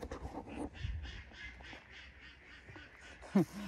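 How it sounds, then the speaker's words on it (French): Ducks quack in a rapid, steady series of nasal calls, somewhat distant, with a louder sharp sound near the end. "Les canards"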